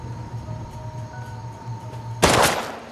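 A single loud gunshot cracks out abruptly near the end of a film scene, breaking a quiet, hum-filled stretch before a short decaying tail.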